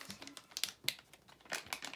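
Plastic packaging of a Lego Dots bracelet set being opened, giving close, bursty crinkling and crumpling with a few sharper tearing rustles, no talk.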